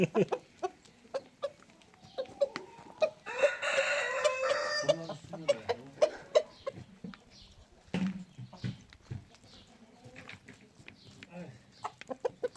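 A rooster lets out one long, loud crow while chickens cluck in short, repeated bursts all around, close by.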